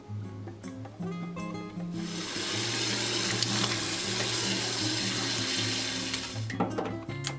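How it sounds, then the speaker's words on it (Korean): Seven red and fifteen green chili peppers are washed under a running kitchen tap. A few handling clinks come first, then a steady rush of water that fades at the end. "꼭지를 따고 깨끗이 씻어서 물기를 빼줬다"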